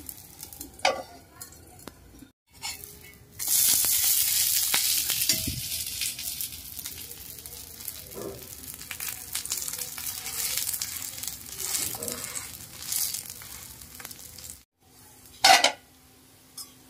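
Colocasia (taro) dosa batter with chilli, ginger and onion bits sizzles on a hot pan, a steady loud frying hiss with occasional spatula scrapes and clinks, briefly quieting near the end.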